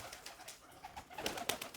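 Bukhara pigeons cooing softly close by in a short burst of low throaty coos, with faint rustling and no voices.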